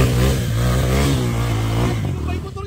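A motorcycle engine revs up close and loud, its pitch climbing in a rising sweep before dropping away at the end.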